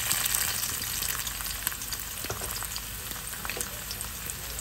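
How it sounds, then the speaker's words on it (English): Onions frying in hot oil in a pot for carrot stew, a loud, dense, continuous sizzle close up with no talking. "We add our onions."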